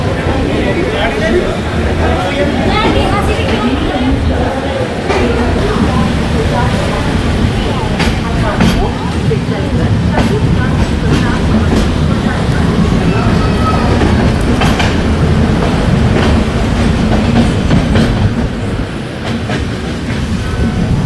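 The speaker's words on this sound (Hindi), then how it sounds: "ट्रेन हमारी जम्मू तवी रेलवे स्टेशन से डिपार्चर हो गई है" Continuous rumble of the Archana Superfast Express departing Jammu Tawi station with rhythmic clickety-clack of wheels on rails, faint voices murmuring throughout.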